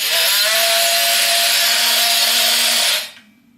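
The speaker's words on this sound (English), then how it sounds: "This one's been fitted with a blade which is particularly good at cutting plasterboard for sockets." A Makita TM30DZ 10.8V CXT cordless multi-tool with an oscillating blade cuts into plasterboard, giving a loud, steady, buzzing rasp for about three seconds before stopping abruptly.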